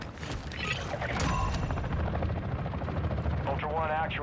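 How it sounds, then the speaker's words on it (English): A helicopter arrives in Call of Duty: Modern Warfare II, its rotor throbbing loudly and steadily over game sounds, with a person talking over it. "we're gonna have to call a helicopter"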